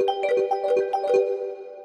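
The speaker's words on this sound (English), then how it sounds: "Let's use this bell sound here." A bright bell synth preset from a Nexus software plugin plays a short melodic pattern of clean, ringing tones, each note struck and decaying quickly, alone and close.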